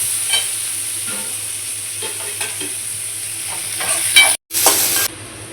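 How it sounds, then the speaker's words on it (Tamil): Onions sauté in a pan with a steady, close sizzle, broken by light stirring scrapes and a few clinks, ending in a brief louder burst of frying after a sudden gap. "வெங்காயத்தில் நல்லா வணக்கி வச்சுங்க"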